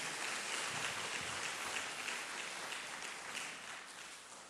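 An audience applauding during a church Sunday service, a brief steady wash of clapping at moderate distance that fades slightly toward the end.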